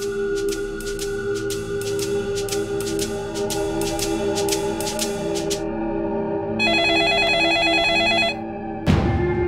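A telephone rings in a tense TV crime-drama scene, with repeated bright electronic ring bursts in a steady rhythm, then a brief shift to a different warbling tone before a sudden cutoff and a thump.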